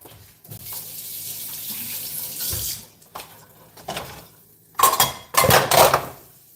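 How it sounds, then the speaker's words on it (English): Running kitchen tap water during a hand wash while cooking five-cheese macaroni and cheese, a steady stream for a few seconds, then sharper splashing bursts and clinks of dishes near the sink. "I'm gonna wash my hands 1 second."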